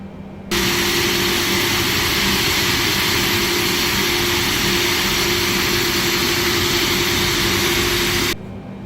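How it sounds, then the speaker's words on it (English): A Boeing 747-8F freighter's second jet engine spools up in Microsoft Flight Simulator, a loud, steady roar with a constant whine that cuts in abruptly, holds level for about eight seconds, then drops back to a quieter hum. "Starting engine 2."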